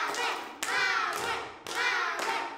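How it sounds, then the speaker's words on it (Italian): Hand clapping in a school classroom comes in a few short bursts, each starting sharply and ringing briefly, fairly close and moderately loud with no talking over it. "Un applauso per Manuel!"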